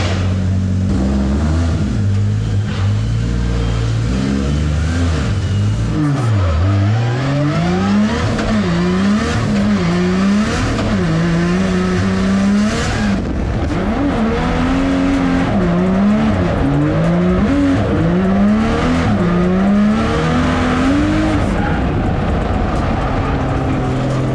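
Pro drift car on a test drive after crash repairs, engine revving hard and repeatedly rising and falling as it slides, with tire squeal, loud and continuous throughout, no talking.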